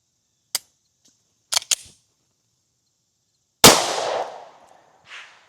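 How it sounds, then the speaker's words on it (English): An HK CC9 9mm pistol firing Federal 124 grain +P HST rounds at an outdoor test setup: a few sharp, loud cracks spaced apart, then a heavier blast with a ringing decay and a faint final report. "Let's get to shooting. Okay, HK CC9 Federal 124 grain."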